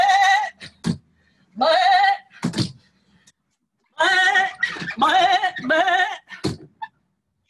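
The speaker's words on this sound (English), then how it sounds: "Sheep." A sheep bleats loudly and close, several separate wavering calls with short pauses between them, and no talk.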